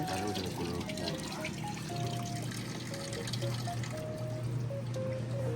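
Cold water pours in a steady continuous trickle in a kitchen cooking setting, soft and close, with a faint background hum underneath and no clear talking.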